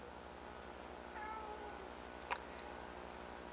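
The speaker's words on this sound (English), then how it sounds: "My cat is meowing." A domestic cat with an abscess meows once, a soft, faint, drawn-out call over a steady low hum, followed by a brief higher squeak; no one speaks.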